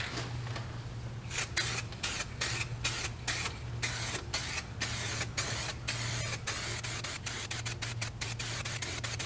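Eastwood Extreme Chassis Black paint hisses from a spray can onto the chassis of a 1972 C10 truck in repeated short bursts, with a steady low hum running underneath.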